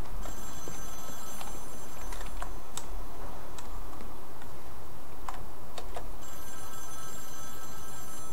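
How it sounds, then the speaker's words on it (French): Telephone ringing in the Wolfenstein: The New Order video game, a loud bright bell-like ring that sounds, pauses and resumes over a busy background of clicks and taps. "Téléphone qui sonne."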